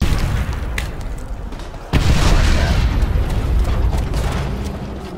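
Special grenade detonating in a 12-year-old video game: a sudden heavy boom that swells into a long, roaring rumble, sustained for several seconds over already loud game noise before slowly tapering off.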